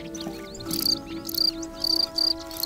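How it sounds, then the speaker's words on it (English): Male crickets rub their wing cases together in a fighting dispute over burrows, giving bursts of high, shrill chirping pulses in irregular clusters over a low steady background hum. "Male crickets defend their burrows from intruders, rubbing their wing cases together for an extraordinary soundtrack."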